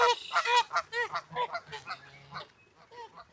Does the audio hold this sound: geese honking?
yes